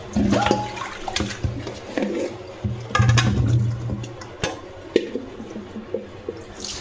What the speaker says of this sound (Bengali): আমি সবজিগুলো সুন্দর করে ধুয়ে নিচ্ছি